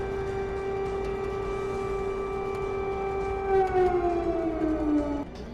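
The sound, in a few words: siren wailing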